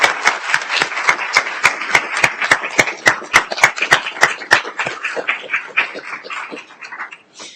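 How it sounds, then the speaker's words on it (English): Audience at an evening awards ceremony applauding award winners at a trustees' board meeting, a burst of loud, close rhythmic clapping that holds steady and then thins out and fades toward the end. "invite everyone in the audience to give another round of applause to all of our Inspire Award winners tonight"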